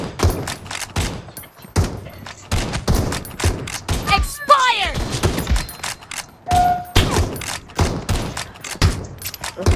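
Winchester 94 rifle fire in the mobile shooter BGMI, a run of sharp, loud shots spaced through the clip, mixed with game effects and brief voices.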